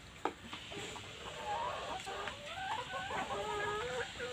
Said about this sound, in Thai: ฟาร์มไก่ไข่ นี่นะคะ มีแต่ไก่